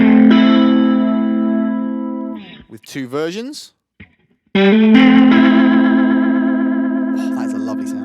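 Electric guitar played through a rotary speaker effect on a Line 6 HX One pedal, sustained chords swirling with chorus-like modulation and some grit, a brief gap with a short spoken phrase, then ringing chords again.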